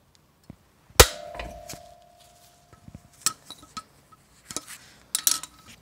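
Metal tools clank and clink while engine bolts are loosened on a 1999 Citroen XM during an engine swap: one sharp clang, then scattered lighter knocks and taps, fairly close, with no voices.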